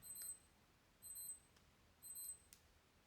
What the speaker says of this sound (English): my husband's watch decides to beep